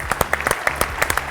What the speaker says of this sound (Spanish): Lo vamos a hacer con un fuerte aplauso como cada mañana.